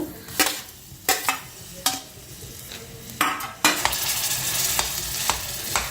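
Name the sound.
carrot and sweet pumpkin frying on slow flame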